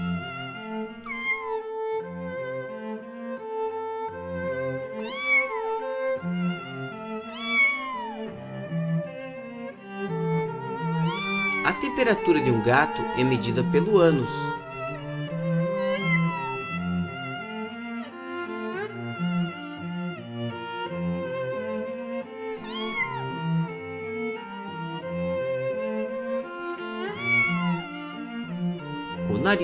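A kitten meows repeatedly in short rising calls throughout, alongside steady background music, with a voice speaking over part of it and a brief burst of louder, busier sound in the middle.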